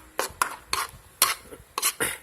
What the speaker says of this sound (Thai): เวลาคั่วอย่าออกห่างหม้อพี่น้องเพราะว่ามันเหลวๆนี้มันมักติดหม้อเอาพยายามคน